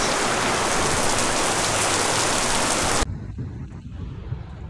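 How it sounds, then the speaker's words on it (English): Heavy rain pours down on a flooded street in a dense, loud, unbroken hiss that suddenly drops to a softer, closer patter of drops partway through. "it's raining so hard"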